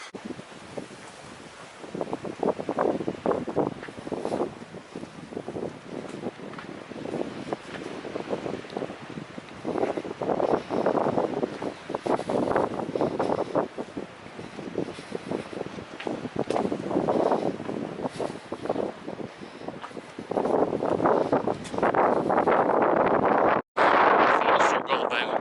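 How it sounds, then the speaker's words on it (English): Gusty wind on the Pennine Way near Malham buffets the microphone in surging waves, growing stronger toward the end, with a brief dropout near the close. "So it's getting windy."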